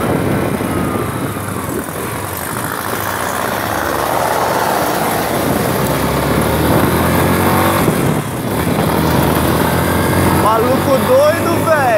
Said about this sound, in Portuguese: Vou pegar um morrinho aqui pra dar uma forçada no motor de leve.